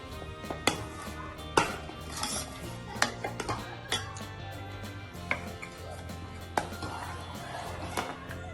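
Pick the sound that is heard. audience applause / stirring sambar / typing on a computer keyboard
stirring sambar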